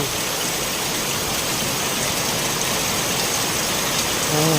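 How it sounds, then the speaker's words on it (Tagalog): Rain falls steadily in a heavy, even hiss that stays loud and unbroken from start to finish, with no voices. "salamat po na tuloy din umulan"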